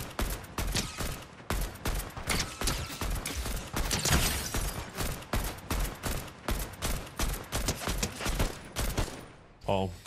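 Sustained rapid gunfire from a Fortnite match, loud bursts of automatic shots repeating steadily through the whole stretch, with a voice speaking over parts of it.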